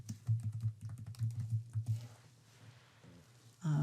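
Fingers type on a computer keyboard in quick bursts of close, crisp clicks that pause after about two seconds, followed by quieter handling noise.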